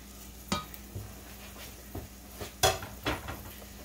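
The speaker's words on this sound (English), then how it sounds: "we are going to fry these spices, lightly toasting them to allow them to bloom and get really fragrant" Whole spices and bay leaves toast in a pan for Indian-inspired greens and chickpeas, a faint steady sizzle broken by a handful of sharp scrapes and clinks as a utensil stirs against the pan.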